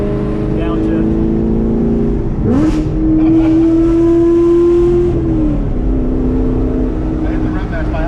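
A Chevrolet Camaro engine in track mode rises sharply in pitch on a downshift rev-match, holds a droning tone, then drops back, heard loud from inside the cabin, with talk in the car.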